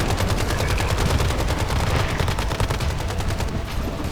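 Rapid automatic gunfire rattles nonstop in the video game Once Human, a dense, loud, close burst of shots with steady rhythm and no pause, with no one talking over it.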